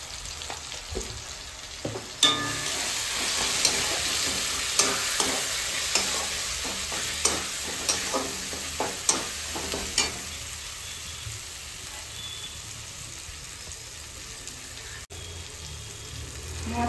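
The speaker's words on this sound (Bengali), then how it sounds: "এবারে দেবো হলুদ, লঙ্কা গুঁড়ো।" Turmeric and chili powder stirred and frying in a pan for a homestyle mutton curry with potatoes: steady close sizzle with repeated scraping strokes of the spoon, the frying easing off in the later seconds.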